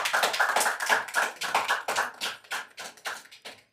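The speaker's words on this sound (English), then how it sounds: "I guess that deserves another round of applause." A crowd at a homecoming celebration for a champion athlete claps in sharp, close hand claps that thin out and grow sparser until they die away.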